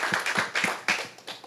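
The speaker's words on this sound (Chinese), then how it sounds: "所以光这一点我们原民会同仁用掌声谢谢考选部安排这么好的地方。" Council staff clapping in thanks at a government examination venue in Taipei; a short run of sharp, evenly spaced claps, close and loud, with no voices.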